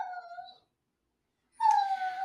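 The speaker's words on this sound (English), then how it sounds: "that's not my alarm clock. That's my dog." A pet dog gives two long, tonal howling whines separated by a short silence, close and fairly loud, with no speech.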